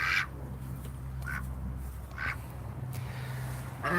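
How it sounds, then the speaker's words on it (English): A duck quacks in four short, raspy bursts spaced about a second apart, fairly close, over a low steady background hum. "There's Duck. He's not terribly happy."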